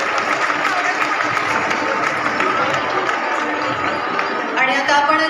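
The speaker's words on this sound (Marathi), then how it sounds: "टाळ्या जरा जोरदार यांच्यासाठीही." Audience at a women's forum haldi-kumkum stage event applauds loudly and steadily, a dense wash of clapping lasting throughout as guests are welcomed onto the stage.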